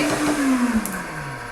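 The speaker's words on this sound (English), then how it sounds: "so you don't have to hear the blender as much" Kitchen blender whirring steadily while blending a purée with cocoa powder and coconut oil, a loud motor whine that slowly drops in pitch as it runs, with no talking.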